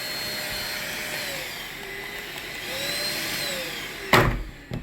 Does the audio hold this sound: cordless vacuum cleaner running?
yes